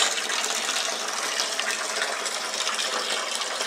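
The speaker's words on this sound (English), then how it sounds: "I'm going to leave you a look at the water here as it's pouring." Rinse water pouring out of a WonderWash hand-cranked laundry washer, a steady, close splashing gush that runs without a break.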